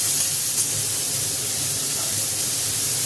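Broth poured into a pan of fried spices for a ridge gourd curry with hilsa fish head, a loud, even hissing sizzle with steam that holds for about three seconds, close up, with no one talking.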